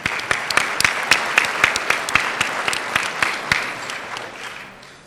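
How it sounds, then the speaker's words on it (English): A round of applause from an audience at a military community economic opportunity event, crisp individual claps standing out within the crowd before the sound gradually thins and fades toward the end. "Let's all give them a round of applause."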